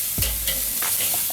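Prime New York steak sears on a lump charcoal grill, a brief close sizzle with a soft scrape or shift of the meat partway through.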